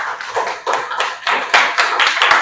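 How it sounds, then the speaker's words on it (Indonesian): A classroom of students claps briefly for a classmate, a short spell of close, uneven hand claps with no talking. "Oke, tepuk tangan buat Nova"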